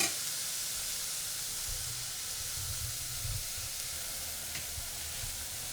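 Onions sautéing in a pan make a quiet, even sizzle and hiss with a few faint stirring rustles, heard close and unaccompanied by speech.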